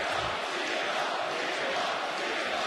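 A basketball arena crowd jeers the visiting Duquesne coaches during a Dayton game, a dense, continuous roar of many voices filling the whole moment.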